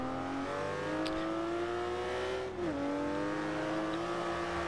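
A Porsche Cayman GTS in Forza Horizon 2 drones steadily at moderate revs, its engine note climbing gradually, dipping briefly at a gear change, then rising again, with no talk over it.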